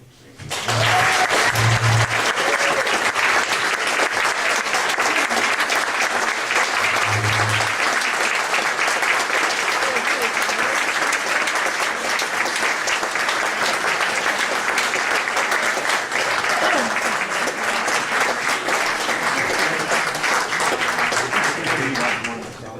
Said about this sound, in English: Everyone's happy and clapping, you know.